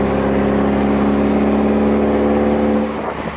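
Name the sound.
car engine on first street drive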